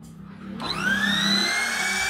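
A DongCheng DMP02-6 wood trimmer router starts up after a quiet moment, its motor spinning up to a high, steady whine that stays smooth and close for the rest of the clip.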